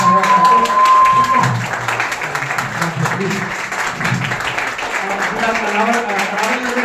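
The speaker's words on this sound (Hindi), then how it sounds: "आइए इनके लिए भी हम थोड़ा ताली बजाएंगे।" An audience at a Delhi community event claps for an arriving guest, with sharp, uneven hand claps that thin out over time while voices and crowd chatter carry on underneath.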